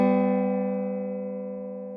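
A single plucked dobro string rings out slightly sharp, sustaining with a steady metallic tone that slowly fades over two seconds.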